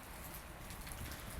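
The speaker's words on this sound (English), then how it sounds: "it ended up raining not a little bit" Steady rain falls over Victoria Park near Calvin Grove in Brisbane, a continuous broadband hiss of drops on surfaces with no talking.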